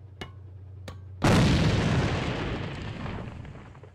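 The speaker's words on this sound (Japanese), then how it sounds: "手榴弾投擲。" A thrown grenade in a tactical shooter game bursts with a single loud, sudden blast after two brief clicks, its rumbling debris and echo decaying slowly over several seconds.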